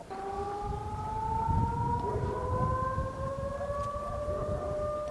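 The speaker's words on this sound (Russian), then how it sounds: "Зазвучит сирена," A civil defense siren wails steadily throughout, its tone slowly rising, with low rumbling background noise underneath.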